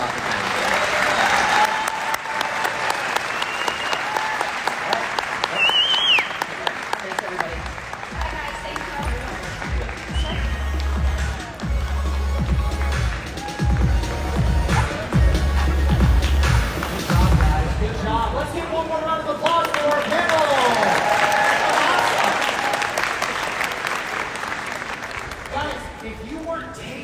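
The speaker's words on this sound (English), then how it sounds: "how about a round of applause for Dr. Time?" Audience applause for a conference panel on AI technologies at EXPCON2023, a sustained round of clapping filling the room, mixed with some talking and low thumps, swelling and then tapering off.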